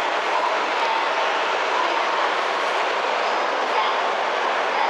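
A Shinkansen E5 series train arrives at a platform in Tokyo station with a steady, loud broadband rush and hum that holds evenly throughout, without pauses.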